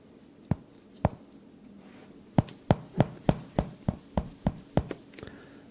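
A hammer smashes a potato in a string of sharp, close thuds: two separate blows, a pause, then about eight quick strikes in a steady rhythm, each a loud percussive knock over a quiet room.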